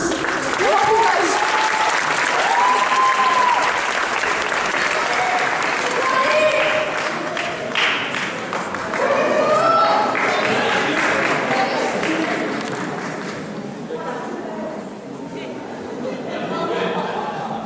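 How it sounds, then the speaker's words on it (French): A crowd at a cosplay contest in Wesserling, 2019, gives a long round of applause, dense and loud for many seconds and tapering off near the end, with voices chattering through it. "On applaudit."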